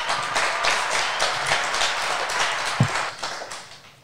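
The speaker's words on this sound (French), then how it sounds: "Nous t'applaudissons très fort." Audience applauding a student's school web radio presentation, a continuous patter of many hands clapping close by that tapers off toward the end, with a single knock partway through.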